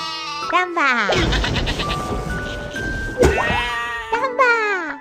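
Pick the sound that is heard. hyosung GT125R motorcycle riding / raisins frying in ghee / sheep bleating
sheep bleating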